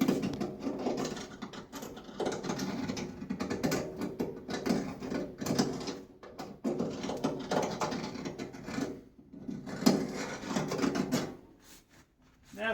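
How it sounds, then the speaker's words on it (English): A hand deburring tool scrapes around the edge of a freshly drilled hole in short, irregular scratching strokes, close and moderately loud, with light clicks between passes. "I will use a deburring tool just to get my burr off of there"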